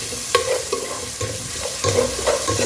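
Cauliflower frying in oil in a village kitchen, a steady sizzle with repeated scraping strokes of a stirring spoon against the pan, close and continuous.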